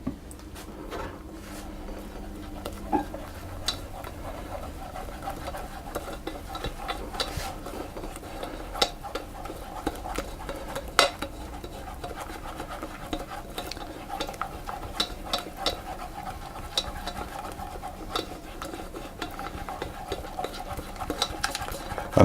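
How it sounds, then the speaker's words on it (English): Spoon stirring melting cheesecake ingredients in a pan on the stove, a soft continuous scraping and clicking with a faint sizzle, close and quiet, no talking. "mix those together until they've melted"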